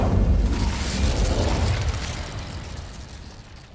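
A fiery Incendio spell cast in the Hogwarts Legacy video game bursts out as one loud, close whoosh-boom, then rumbles and fades steadily over a few seconds with no talking.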